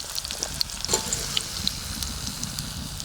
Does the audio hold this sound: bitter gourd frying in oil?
yes